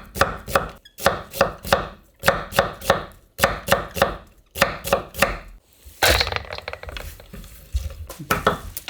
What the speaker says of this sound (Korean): 이제 굵은 채를 썰어주세요.